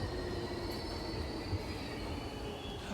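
A subway train in the video game The Outlast Trials rumbles steadily with a faint high squeal from the wheels, a continuous, enclosed droning ride with no voices.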